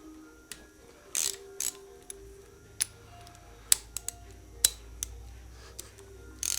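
Ratchet and socket turning the engine crank of an Aprilia RSV4 motorcycle during a valve check, sparse metallic clicks and clacks spaced irregularly, close but quiet, with a faint background hum and no talking.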